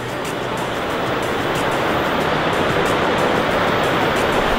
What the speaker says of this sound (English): Here's our waterfall.